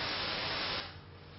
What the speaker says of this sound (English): take half a second of noise and then play it twice